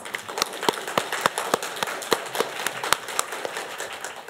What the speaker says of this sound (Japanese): 早速朱先生をお招きしたいと思います拍手でお願いします